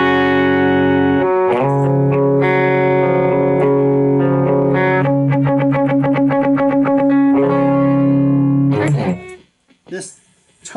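Electric guitar played through a BOSS eBand JS-10 with its compressor engaged, an 80s style tone, ringing sustained chords followed by fast repeated picked notes, loud and continuous before trailing off into brief gaps.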